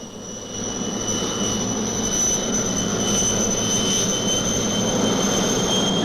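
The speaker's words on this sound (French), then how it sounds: "les hélicoptères de Sud Aviation démontrent dans un ballet aérien" Sud Aviation helicopters flying a display at the 1963 Paris Air Show at Le Bourget, a continuous loud turbine whine and rotor drone with a high steady tone, building slightly and holding without any voices.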